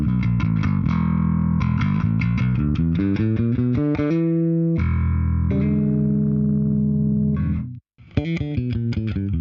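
A bass guitar played through a Neural DSP Quad Cortex, heard alone: loud, distorted, effects-laden riffs with rapid repeated notes and sustained tones, and a brief pause before the playing resumes.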